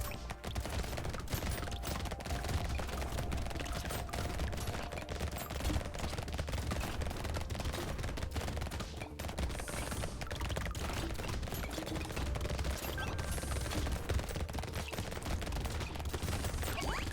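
Shotguns fire rapidly in the video game Brotato during wave 9, producing a dense, continuous barrage of overlapping shots and impacts at a steady, frantic pace, fairly quiet and without speech.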